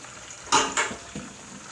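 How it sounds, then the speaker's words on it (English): Pork chops sizzle in hot oil in a pan while cooking Sierra Leone-style pork chops and gravy: two short, bright hissing surges close together, then a softer sizzle, all fairly quiet with no talking. "The first two, it's ready, so I'm gonna take them out and fry the other two."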